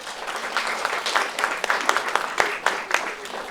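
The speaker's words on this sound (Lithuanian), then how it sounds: "Dėkojame ir palydime plojimais." Audience applause at a thank-you evening in Teizai, Lazdijai district, Lithuania: a steady patter of many hands clapping at moderate distance, with sharper individual claps poking through and faint talk underneath.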